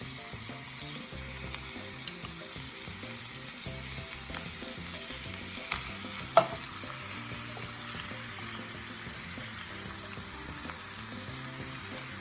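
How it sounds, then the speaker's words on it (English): Diced tomatoes go into a sizzling pan for lasagna, and a low steady frying hiss runs throughout with a few faint clicks and one sharper clatter near the middle. "Okay, I'm gonna add diced tomatoes."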